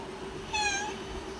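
A cat in a video game lets out a single clear meow of about half a second, rising then falling in pitch, over a quiet steady game background hum.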